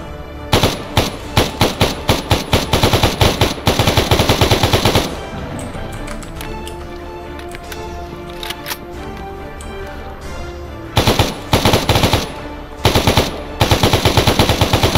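Machine gun fire in the video game S.T.A.L.K.E.R. Anomaly, loud rapid bursts of automatic shots at the start and end, with a quieter spell of ringing game sound between them.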